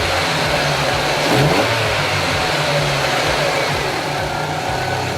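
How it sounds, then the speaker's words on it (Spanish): A car engine revs up as the vehicle is accelerated, a loud, close, sustained mid-pitched roar that swells slightly and then holds steady with no talk over it. "Y ahora vamos a acelerar el vehículo."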